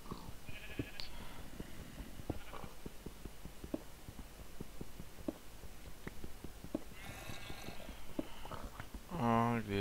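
Sheep bleat intermittently at a distance amid sparse clicking and tapping, with a couple of louder bleats breaking through near the end.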